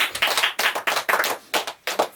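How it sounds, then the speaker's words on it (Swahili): An audience at a school gospel choir event in Kitengela claps hands in a quick rhythmic run of about eight sharp bursts, close and lively, with no speech over it. "Tumpige makofi."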